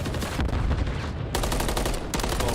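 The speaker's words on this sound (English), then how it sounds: "he'll get a burst into him with the pistol" Rapid pistol bursts in a Call of Duty League match, loud and close, with sharp shots packed densely across the clip and brief gaps between volleys.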